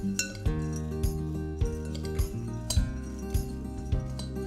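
A spoon clinks steadily against a large bowl as fried anchovies, blended sambal ingredients and fried shallots are tossed together, with a regular rhythm of sharp, fairly quiet taps and no talk.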